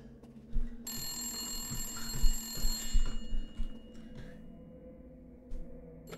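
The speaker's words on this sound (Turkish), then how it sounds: "Telefona cevap ver." Telephone ringing inside a Resident Evil video game, a repeating electronic bell tone running steadily for several seconds over low game ambience and rumbling thuds, then cutting off.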